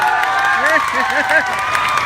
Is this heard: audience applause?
yes